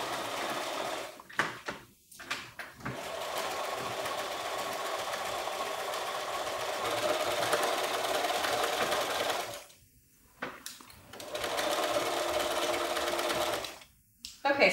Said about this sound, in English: it's the zipper foot's job to just kind of glide right along your zipper teeth